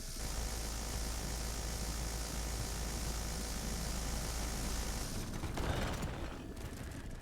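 A helicopter flown in a video game hums with a steady, loud rotor and engine drone that holds for about five seconds, then shifts with a burst of rattling mechanical noise near the end.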